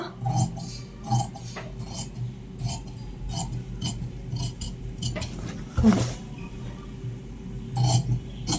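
Cloth for a uniform shirt collar is cut in a row of short, crisp snips at a fairly regular pace, close by and moderately quiet, with small pauses between cuts.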